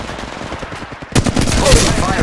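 Rapid automatic gunfire in the mobile shooter Apex Legends Mobile, a quieter rattle at first, then louder, denser bursts close by.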